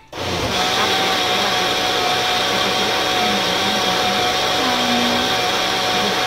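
A blender whirring loudly and steadily as it blends boiled red beans with milk and honey, a continuous motor roar starting abruptly and running without pause, with no talk.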